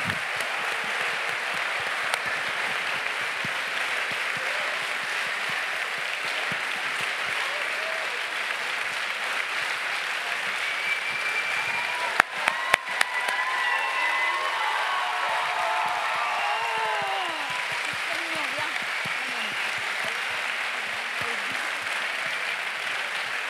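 Sustained audience applause fills a cinema at a film festival premiere, a steady wash of many clapping hands with a few brief louder claps and faint voices beneath.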